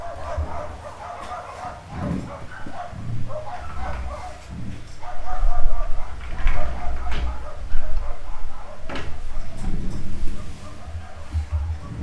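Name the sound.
dogs barking outside the window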